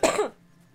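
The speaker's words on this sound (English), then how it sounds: "I'm sorry for coughing." A single sharp cough from a player during a gameplay commentary, a short loud burst that quickly fades into quiet room tone.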